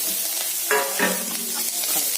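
Steady sizzling of onions frying in ghee, with a couple of brief stirring scrapes, close up and fairly loud, no voices.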